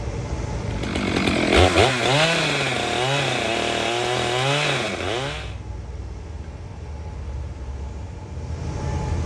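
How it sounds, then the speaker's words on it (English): A chainsaw runs loud and close, its pitch rising and dipping as it cuts through a walnut log in repeated strokes, then cuts out, leaving a quieter hum. "So, one more chainsaw."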